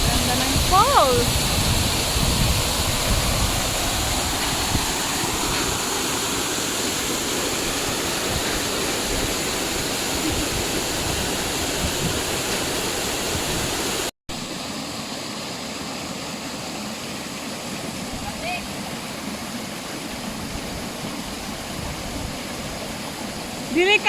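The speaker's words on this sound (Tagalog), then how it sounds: "Ganda ng falls." Mapita Falls, a waterfall roaring in a steady, broad rush of falling water close by, continuous throughout with a brief cut midway and slightly quieter after it.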